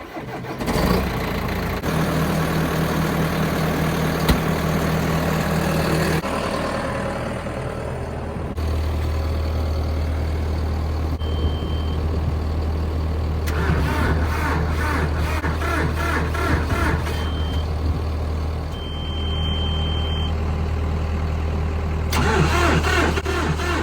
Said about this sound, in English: Well, it doesn't seem like it wants to start.